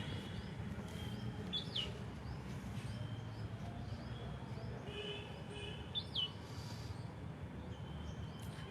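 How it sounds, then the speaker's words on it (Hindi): Small birds chirp in short, sparse bursts somewhere behind someone speaking indoors, faint and a little distant over a low steady background. "देखिए पीछे बैठ करके कितने संतुलित तरीके से ये चिड़िया चहचहा रही है।"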